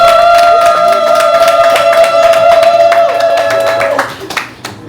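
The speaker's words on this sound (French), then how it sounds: "moi je commence d'abord par applaudir quand on a trouvé Rose" Rhythmic clapping from a gathered crowd at a traditional ceremony, running over a sustained, tonal sung or chanted line, fairly loud and steady before thinning out near the end.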